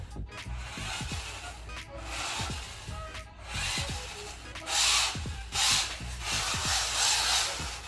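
Small metal gears whir and rasp in irregular bursts, with scraping and clicking as a tiny LDRC mini RC drift car skids and revs close by.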